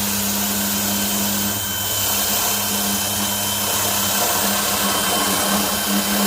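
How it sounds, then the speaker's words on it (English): A drill bores a hole down into a Carolina Skiff boat console, giving a steady, loud, continuous whir that holds at one pitch for several seconds with no talking. "I drill down in."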